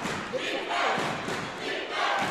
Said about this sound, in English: And you can hear the crowd get loud.